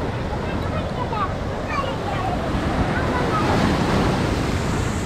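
Waves wash in at Cherai Beach in a continuous loud rush with wind noise, while muffled voices murmur faintly in the background.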